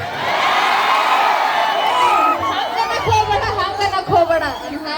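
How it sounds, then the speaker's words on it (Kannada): A live audience at a stage comedy show in Karnataka claps and cheers loudly, a dense burst of applause and whoops that fades into scattered shouts and chatter. "ವಾ ಬರ್ಲಿ ಜೋರ ಚಪ್ಪಾಳೆ ನೋಡ್ರಿ"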